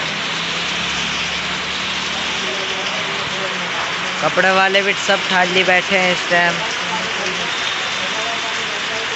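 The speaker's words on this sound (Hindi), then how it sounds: "ये देखिए बारिश कितनी तेज पड़ रही है, पानी भर गया सड़क पर भी।" Heavy monsoon rain pours steadily onto a flooded street in Uttar Pradesh, a dense continuous hiss throughout, while someone talks over it partway through.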